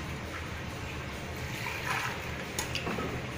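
Tamarind water is poured into a pea curry, a steady soft liquid pour with a faint trickle toward the end, close by and with no talk.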